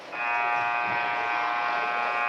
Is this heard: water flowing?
no